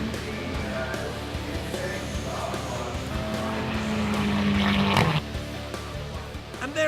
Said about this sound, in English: as Mark brings the Donnington Mazda MX-5 over the finishing line.